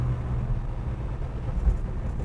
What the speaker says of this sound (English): Now listen to the exhaust.